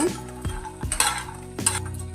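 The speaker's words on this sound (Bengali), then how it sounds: "সেই জন্য বড়িগুলো ভেজে নেব" Lentil dumplings sizzle steadily in oil while a utensil scrapes and clinks against the pan in a few distinct strokes, close by.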